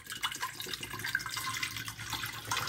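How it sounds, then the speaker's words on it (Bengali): Water poured into a pressure cooker while making potato curry, a close, steady splashing and trickling stream with no talking. "প্রেসার কুকারে খানটাক জল"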